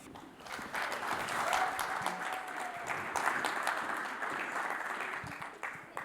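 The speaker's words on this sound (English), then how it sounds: "I want you guys to give a round of applause for a third-generation Rotarian" Steady round of applause from a Rotary club audience welcoming a third-generation Rotarian, broad and sustained for about six seconds with a faint voice or whistle-like tone briefly audible within the clapping.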